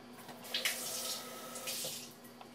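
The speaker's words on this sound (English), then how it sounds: "I'll rinse this out" Tap water runs steadily as a martini glass is rinsed out, a soft close splashing hiss with brief rises as the glass moves under the stream.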